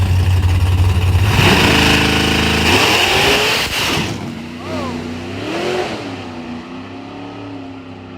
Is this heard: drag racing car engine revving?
yes